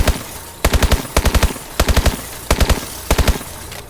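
The SN6 submachine gun fired from the hip in Call of Duty: Advanced Warfare, heard as loud rapid bursts of four or five rounds, repeated about six times with brief gaps between.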